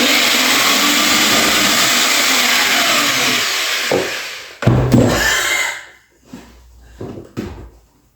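An electric drill bores pilot holes in wooden skirting board, a loud close whir for about four seconds, then bumps and clunks as the bit stalls and the tool is handled, followed by quieter knocks.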